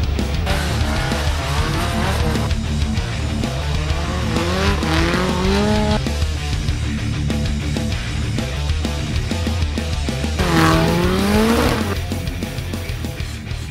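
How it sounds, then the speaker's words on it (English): Scion tC drift car at a Formula Drift event, engine roaring loudly throughout with repeated rising revs and two long tire squeals sliding through bends, the second louder near the end. "I'm driving my Scion TC"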